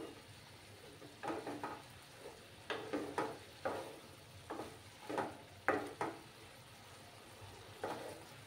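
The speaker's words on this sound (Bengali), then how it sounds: "একটু সময় আমি এটাকে কষিয়ে নেব।" Small fish masala with Kashmiri chilli powder being stirred and fried in a pan, a quiet sizzle under intermittent scraping strokes of the spoon, soft and close with gaps between stirs.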